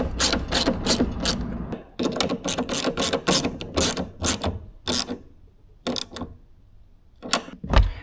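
Nuts being tightened onto LiFePO4 battery terminals, a quick run of close, sharp ratcheting clicks in bursts with short pauses between, and a final louder clatter.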